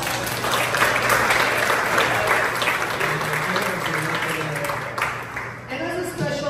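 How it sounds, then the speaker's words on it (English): Crowd applause for cooking class staff during a cruise stop in Cozumel, steady and dense clapping sustained throughout, loud and near, tapering slightly near the end. "so she deserves a big applause"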